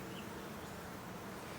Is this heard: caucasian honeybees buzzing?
yes